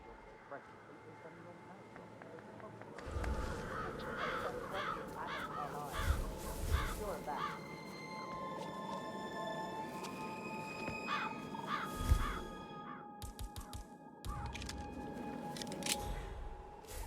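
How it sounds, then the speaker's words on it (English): Crows cawing in the Dartmoor level of the Hitman video game: repeated harsh caws in scattered bursts over a steady ambient bed, with voices talking underneath. "I'll never get rid of those stupid birds."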